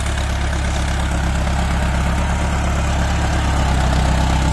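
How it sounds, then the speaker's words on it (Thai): A tractor engine idles steadily close by out in a ploughing field, a loud continuous low throbbing drone with faint vibration and no change in pace across the few seconds. "เยอะนะครับรถไถออกทำงานวันนี้ครับ"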